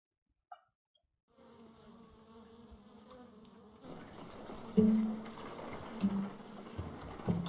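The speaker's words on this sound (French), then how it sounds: "Holmes, where have all these wretched bees come from?" Bees buzz in a Sherlock Holmes detective game scene, a steady insect drone that swells and grows louder after a quiet start, with a few brief louder tones layered over the hum.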